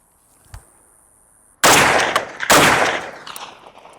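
A 1963 FAL rifle fires two sharp, loud rounds about a second apart from a repaired magazine, each crack ringing out and trailing into echoing decay after a quiet start.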